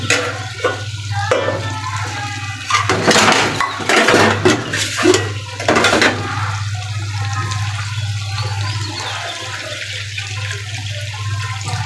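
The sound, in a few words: pouring water into a pan for cooking dal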